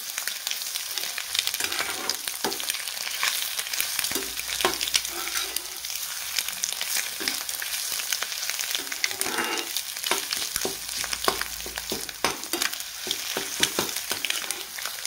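Egg bhurji sizzles steadily as it is stir-fried in a pan, a continuous dense hiss broken by frequent scraping and tapping strokes of the spatula, close and fairly loud with no voices.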